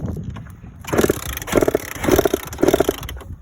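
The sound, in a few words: two-stroke dirt bike being kick-started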